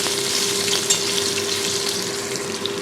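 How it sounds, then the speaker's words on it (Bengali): Potatoes fry in hot oil for a Bengali chorchori, giving a loud, continuous sizzle with small crackles, close and unbroken, with no speech. "আলুটাকে লাল লাল করে ভেজে নেব"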